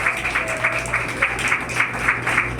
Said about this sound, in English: Can you guys give her a hand of applause